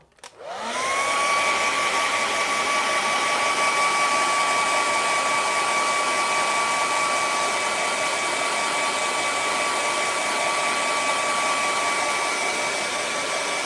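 A hair dryer blows steadily to dry paint on a sunset path painting, starting up abruptly and then holding a loud, constant whirring whine with a high tonal hum for the rest of the clip.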